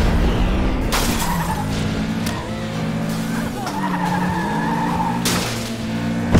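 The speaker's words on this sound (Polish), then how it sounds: "Widzicie jak mój samochód to się odbija?" A race car in the FlatOut 2 video game roars with a sustained engine drone, tires squealing as it skids and bounces, with several sharp crash impacts scattered through the loud, continuous racing noise.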